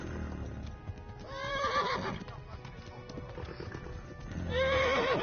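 A horse gallops and neighs in the medieval video game Kingdom Come: Deliverance. Steady hoofbeats run throughout, and two loud whinnies come through clearly, one near the middle and one at the end.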